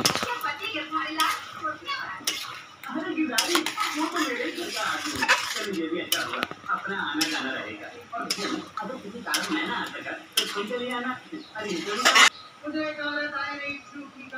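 Chicken korma with yogurt being stirred in a pan on a low gas flame, with repeated clinks and scrapes of a metal spoon against the pan running throughout, close and fairly loud, under someone talking.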